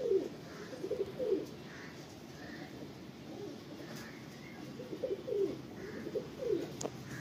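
Pigeons coo in low, repeated rolling calls at a pigeon sale in Latur, several bouts spaced across a quiet background, moderately near and without talk.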